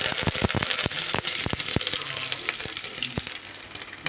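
Mustard seeds and dried red chilies fry in hot oil for a Kadapa-style mottikaya karam, a dense, steady sizzle with sharp pops and crackles scattered throughout, heard up close.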